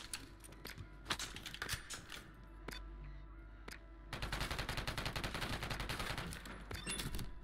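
Gunfire in the shooter Warzone: scattered sharp single shots at first, then a long sustained automatic burst of rapid rattling fire, fairly faint and mostly without talk.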